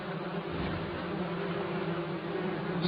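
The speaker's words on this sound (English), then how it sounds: "Squadrons of carnivorous rainforest wasps take to the air." A swarm of carnivorous rainforest wasps flies in a steady, dense buzzing drone that holds unbroken at moderate loudness throughout.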